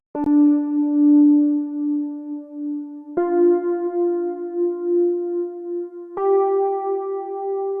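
A synth preset plays a slow trap beat melody of three long sustained tones, each stepping slightly higher and holding for about three seconds. The tones are clean and bright with a soft wavering texture, with no drums or voices.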